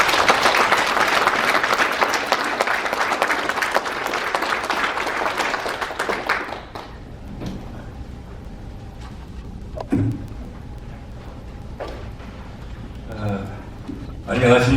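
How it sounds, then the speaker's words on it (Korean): An audience at a lecture on inter-Korean relations applauds to welcome a speaker: dense, steady clapping from many hands for about six seconds, then it fades out and a few scattered sounds and low murmurs follow. "큰 박수로 모시겠습니다"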